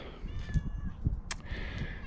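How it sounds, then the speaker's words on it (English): A neighbor's cat meows in a few drawn-out, wavering cries, fairly close, over low outdoor rumble and a couple of soft thumps. "My neighbor's cat again."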